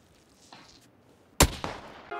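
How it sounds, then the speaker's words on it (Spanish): A single loud gunshot from the PUBG battle royale video game cracks out sharply after a stretch of quiet ambient game noise, followed by a brief echoing tail and further sharp sounds. "Te han matado de un disparo que ni sabes de dónde ha venido."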